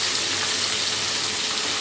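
Spiced potatoes being mixed and mashed with paneer in a frying pan, giving a loud, steady hiss of sizzling that does not change for the whole short stretch.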